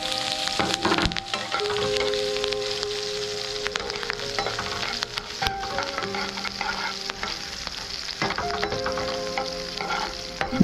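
Cut green chillies sizzle in hot oil with cumin tempering for kande pohe, a steady close crackling hiss with occasional stirring scrapes and no talking.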